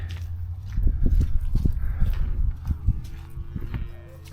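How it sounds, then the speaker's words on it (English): Several cows that have gotten out of their pasture move around on a farm, with heavy hoof thuds, shuffling and rustling close by, and no talking. "But the cows got out."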